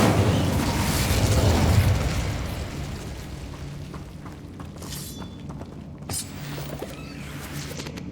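A fire spell cast in the Hogwarts Legacy video game: a loud, roaring burst with crackling that fades over the first few seconds, then a quieter rumbling tail and a brief sharp flare near the end.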